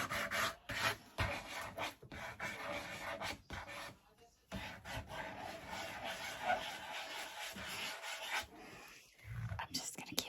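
Sandpaper rubs glaze off a wooden chair by hand in a close, raspy back-and-forth scrub of short, uneven strokes with brief pauses.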